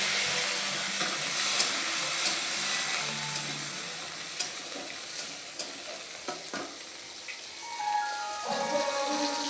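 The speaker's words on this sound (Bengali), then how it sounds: "এবারে উচ্ছে ভেজে নেব।" Bitter gourd frying in a pan with a steady, close crackling sizzle and occasional stirring scrapes and taps, with no voices over it.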